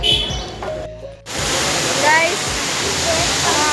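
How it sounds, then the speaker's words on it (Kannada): The Mookanamane Abbi Falls waterfall roars as a steady, dense rush of falling water, rising after a brief drop near the start and continuing loud and constant. "ಅಬ್ಬೆ ಫಾಲ್ಸ್ ಹತ್ರ ಬಂದಿದ್ದೀವಿ."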